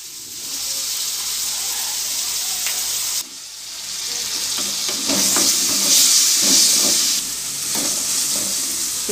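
Onions, mustard seeds and pepper sizzling in a hot pan for kadai paneer, a steady crackling fry that briefly drops, then returns louder with stirring clinks and bursts of spatter.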